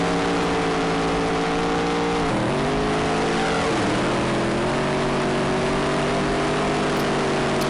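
A sprint car engine in the Dirt Track Racing: Sprint Cars video game drones loudly and steadily, with two brief dips in pitch as the throttle lifts before it climbs back to a sustained high rev.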